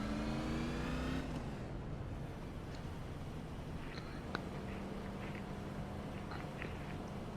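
A race car engine in a dirt-track racing video game drones steadily and loudly throughout, with a brief higher engine whine near the start and faint clicks scattered over it.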